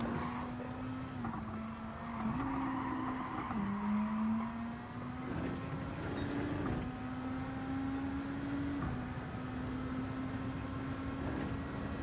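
Gr.2 race cars run the Nurburgring GP circuit in Gran Turismo 7 on the final lap, a steady engine drone holding a sustained tone with small pitch shifts through gear changes and corners, continuous and fairly close.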